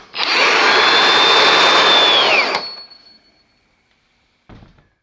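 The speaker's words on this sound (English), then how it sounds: "I love having an electric impact wrench." An electric impact wrench running during wheel removal on a street-legal Legends car project, giving one loud, continuous whirring burst of about two seconds that winds down. A short clunk follows after a pause.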